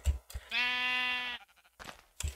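A single Minecraft sheep bleats once in a long, wavering, nasal tone, close and clear, with brief soft game noises just before and after.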